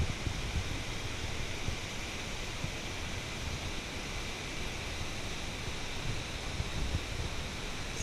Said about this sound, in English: listen to the sound of the river.